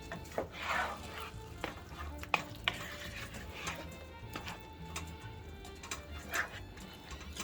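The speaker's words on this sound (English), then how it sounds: "Make sure you cover all the meatballs with the sauce." A spoon stirs meatballs through tomato sauce in a pan, giving soft scraping and occasional light clinks against the pot over a low simmering sizzle, all fairly quiet and close.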